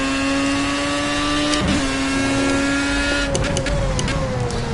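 Formula A race car engine in Project CARS, a loud, steady high-pitched whine holding gear, then a quick shift and dip in pitch before climbing again, with a few sharp clicks and bumps over it.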